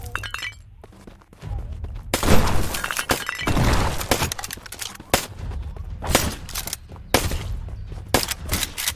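Enemy gunfire in the video game Black Skylands, rapid sharp cracks and bursts of shots with shattering impacts, loud and irregular, some clustered volleys and brief gaps between them.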